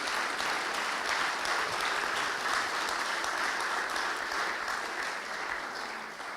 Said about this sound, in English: You may applaud to your neighbors.